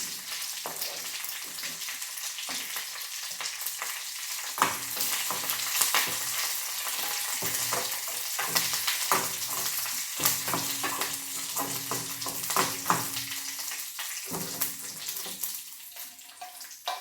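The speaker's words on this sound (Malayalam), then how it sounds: "കടുക്, കറിവേപ്പില, വറ്റൽമുളക്, കടുക് വറുത്ത് ഇടുക" Mustard seeds, curry leaves and dried red chilies sizzle and crackle in hot oil for a tempering, a loud continuous frying hiss with popping bursts and stirring clatter.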